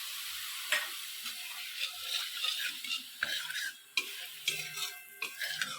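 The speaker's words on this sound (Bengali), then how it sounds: "ফুটতে টকবক করে ফুটতে চালু করে দিয়েছে মশলাটা" Mustard spice paste simmering with added water in a pan for an eggplant curry, a soft continuous sizzle and bubbling broken by occasional scraping stirs and clicks, fairly quiet and close.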